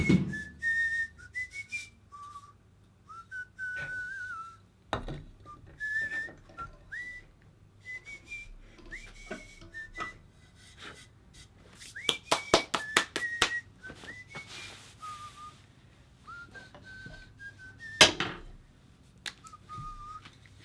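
A man whistles a meandering tune in short phrases with pauses, close and clear, while sharp taps and claps punctuate the quiet room.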